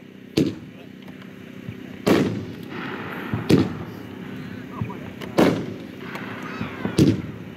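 A Badaboom Machine Gun 500 g 1.4G fireworks cake fires loud, booming bursts outdoors, about five big reports at irregular intervals of a second or two, each with a rumbling tail and crackle, alongside faint talk.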